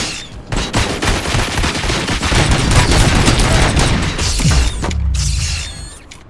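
Video game Robocop Rogue City firefight with rapid automatic gunfire in dense bursts, clanking mechanical sounds and a closing shot, all loud and close.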